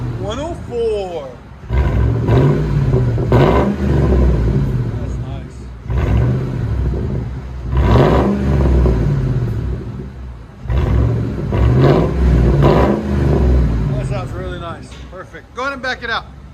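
A Ford Expedition with a 5.4L V8 and aftermarket muffler revs repeatedly, loud deep exhaust roars rising and falling in several bursts with short idle gaps, and people talk nearby at the end.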